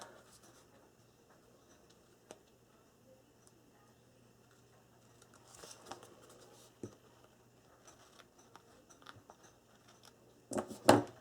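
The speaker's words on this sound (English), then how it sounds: "grab my score tape scissors, and I'm just going to trim off anywhere it's sticking out." Quiet snips and crisp cuts of score tape scissors trimming paper, scattered and irregular, growing busier and louder toward the end.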